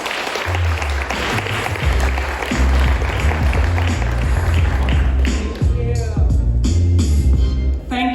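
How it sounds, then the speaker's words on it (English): Audience applause welcoming Marina Schmidt as she takes the stage for a climate communication talk, steady and loud throughout, with music playing beneath the clapping. "give a warm round of applause to Miss Marina Schmidt"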